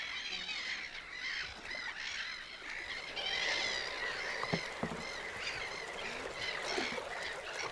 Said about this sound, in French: La présence de mouettes indique que nous nous rapprochons de la mer.